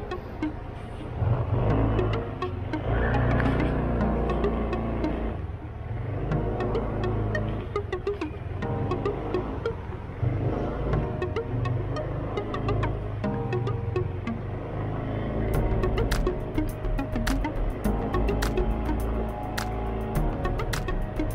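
A new Yamaha NMAX scooter cruising on the road from Olongapo to Barrio Barretto: a steady low engine drone with wind rumble and occasional throttle swells, continuous and close throughout, with no talking.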